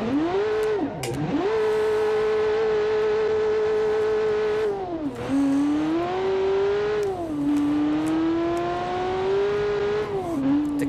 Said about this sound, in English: and I hope the engine is not too loud.